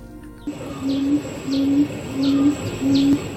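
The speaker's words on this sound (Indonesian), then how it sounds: "Kawanan burung kecil ini kerap bernyanyi selama musim kawin." Yellow-legged buttonquail calling in the breeding season, a repeated low cooing note given four times at a steady interval, fairly close and clear over a soft background hum.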